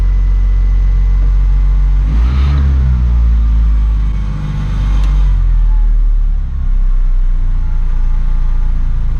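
The engine of a 1983 Honda Acty kei truck cranks briefly and catches, then settles into a loud, low, steady idle close by, with a slight rev partway through.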